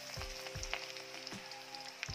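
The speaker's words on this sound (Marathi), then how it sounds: "हे पहा, लसणाचा छान रंग बदलेपर्यंत तो असा परतून घ्यायचा तेलात." Garlic frying in hot oil, a soft steady sizzle with a few regular low thumps and light clicks as it is turned, quiet and without speech.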